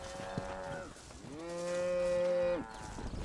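Cattle in the Red Dead Redemption video game let out two drawn-out, clear moos, the second louder and longer, with no talk over them.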